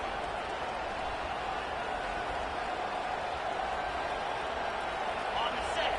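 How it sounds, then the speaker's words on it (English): A stadium crowd at an Ohio State versus Wisconsin college football game roars in a steady, dense wash that stays loud and unbroken throughout, with no clear voices standing out. "This crowd, full throat, splitting the eardrums and letting them know it's going to be a long day."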